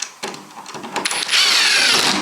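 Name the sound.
power drill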